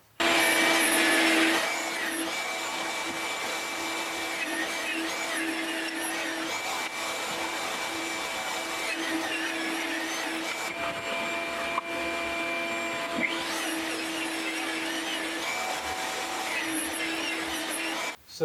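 A saw rips wood boards down to width with a continuous high motor whine and layered harmonics, its pitch dipping and recovering as the blade works through each cut over about eighteen seconds.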